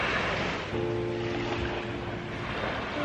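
Surf washing onto a beach, a steady broadband wash with wind noise on the microphone, continuous and fairly close, with a faint low engine-like hum partway through and no talk.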